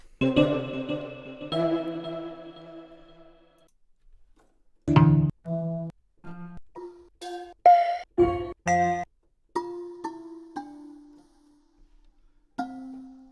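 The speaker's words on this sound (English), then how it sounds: "I'm going to see what bells we have." Sampled bells from a music-production software instrument library play one after another: a few long ringing chimes, then a run of short struck bell notes, clear and close with no voices.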